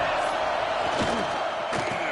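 A stadium crowd roars at an NCAA college football game, a steady wash of cheering and noise with a couple of sharper bursts rising out of it, while a commentator talks over the top.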